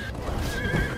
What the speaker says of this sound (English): First time on a horse here!